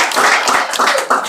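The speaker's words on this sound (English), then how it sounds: "let's give them a nice big round of applause" Parents and guests clap for young karate students earning belt stripes at a Montessori school event: loud, close, uneven bursts of hand claps that swell and dip over a brief moment.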